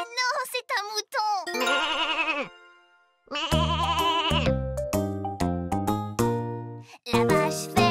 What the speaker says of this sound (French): Mais non, c'est un mouton.